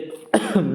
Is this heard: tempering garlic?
no